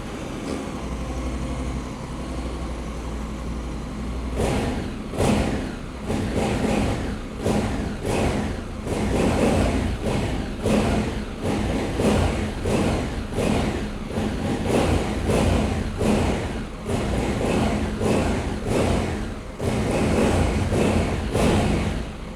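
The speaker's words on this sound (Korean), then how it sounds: "배기 사운드 한번 들어보고요" A stock 2021 Honda Africa Twin 1100 Adventure Sports ES DCT motorcycle idles with a quiet exhaust, then is revved repeatedly in short, regular bursts, each rising and falling close to the listener.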